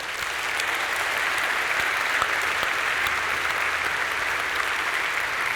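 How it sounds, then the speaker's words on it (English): Steady, broad applause from a large audience at a tech conference keynote, a dense, even wash of clapping sustained throughout at moderate volume. "Now, let's give these folks a round of applause."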